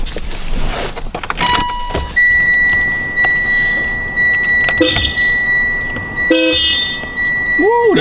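Hella aftermarket horn on a Mitsubishi Evo X, blaring in several sustained steady-pitched honks of varying length, close and loud, with handling noises and clicks between blasts.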